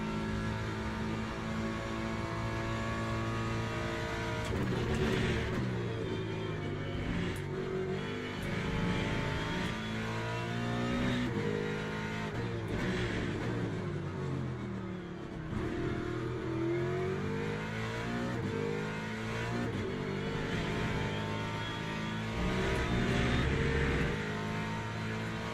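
A GT3 race car engine in Le Mans Ultimate roars continuously, revving up and down through gear changes at full volume with no pauses.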